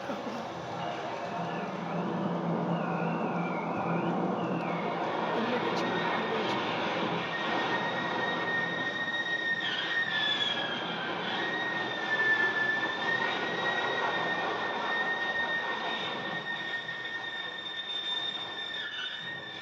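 A train rumbles past with long, high metallic squeals from its wheels rising over the steady roar.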